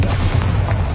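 A single heavy, booming blast from an explosion spell in Hogwarts Legacy, short and loud with a deep low thud and no voices.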